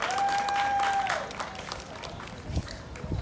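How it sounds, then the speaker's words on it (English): Applause breaks out from a Pride Month event audience for a sponsor, fairly loud at first then thinning into scattered claps, with a steady tone ringing briefly at the start. "just give a round of applause for their sponsorship this Pride Month"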